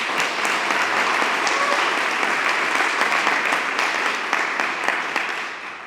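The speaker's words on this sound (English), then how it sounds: "let's give her a round of applause" Loud, dense applause from an audience at a community ribbon cutting and co-working open house, steady and enthusiastic throughout before tapering slightly at the end.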